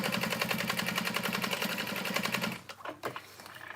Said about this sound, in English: And then I'll just top stitch down the sides